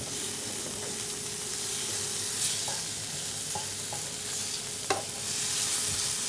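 Minced meat sizzles in a hot pan while being stirred, a steady close frying hiss broken by a few light spatula taps and scrapes, with no talking.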